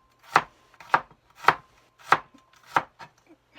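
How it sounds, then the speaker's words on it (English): A knife slicing cooked chicken on a cutting board, five crisp, evenly spaced chops close up, with no talking. "And now you can just cut slices"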